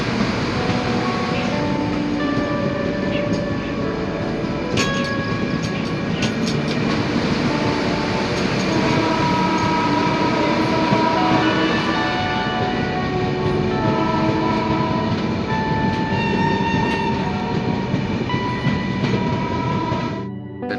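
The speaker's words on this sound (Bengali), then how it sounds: "আমাদের ট্রেন ঠাকুরগঞ্জ ছেড়ে তার পরবর্তী গন্তব্য গালগালিয়ার উদ্দেশ্যে চলতে লাগলো" The Kanchankanya Express rolls out of Thakurganj station, its wheels keeping up a loud, continuous rumble and clatter, and a drawn-out horn blast sounds partway through the run.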